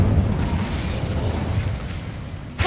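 An Incendio fire spell cast in Hogwarts Legacy on PS5 bursts out as a loud, sustained roaring blast of flame that fills the whole moment before cutting off.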